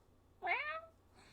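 A human voice imitates a cat's meow, a single short rising-and-falling mew heard clearly against a quiet background.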